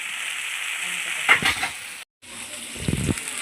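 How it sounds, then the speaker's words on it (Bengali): Onions fried with salt, turmeric and chili powder sizzle in a pan while being stirred, with short bursts of scraping and a brief gap of silence. "আমি এটাকে ভালো করে নাড়াচাড়া দেবো একটু হলুদ দেবো"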